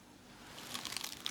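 Crisp, faint crunching of someone biting into a dry tuna sandwich, a few close crackly bites that get louder toward the end with no talk.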